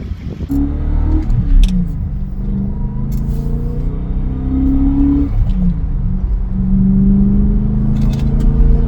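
A BMW M5 V8 with a 6-speed gearbox pulls hard from inside the cabin, its deep engine rumble rising and falling through gear changes at a loud, steady level for about nine seconds.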